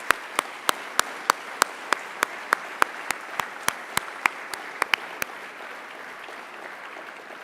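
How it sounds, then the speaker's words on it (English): Applause for event sponsors at a health gala comes as a string of crisp, evenly spaced claps at a steady beat, then softens and stops after about five seconds, leaving a quiet room tone. "Let's give all of our sponsors a round of applause."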